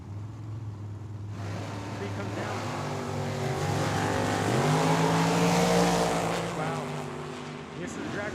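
Drag racing cars launch side by side at Tucson Dragway, a loud rising engine roar building over several seconds as they pull away down the strip. The sound swells and then fades, with no talk.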